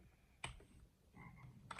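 Frog croaking in a video game, two short croak sounds separated by a brief gap, quiet and heard on their own.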